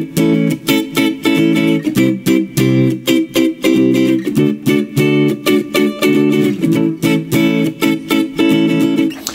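Guitar playing a song's riff with barre chords: loud, punchy strummed chord stabs in a driving, steady rhythm with short choked gaps between hits, alone without talk.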